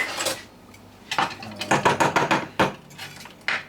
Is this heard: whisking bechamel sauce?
yes